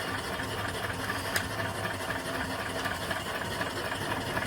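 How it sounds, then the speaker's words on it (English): Small 3-4 horsepower steam engine bolted onto the side of an 18-inch copper-tubed boiler, running steadily: continuous chuffing mechanical hiss and rattle at moderate level, with no pauses. "here's my next engine and boiler"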